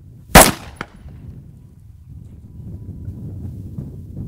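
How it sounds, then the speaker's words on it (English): A single sharp pistol shot fired through an open barrel with no compensator, a loud close crack near the start, then a quick echo and faint wind rumble. "Shot number 2, the open barrel."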